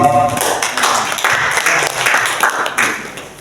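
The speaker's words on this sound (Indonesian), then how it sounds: "Kalau tepuk tangan dan setengah-setengah." Loud congregation clapping during a Sunday church service, a busy, continuous burst of many hands close by, with a brief tonal voice or music trace at the start.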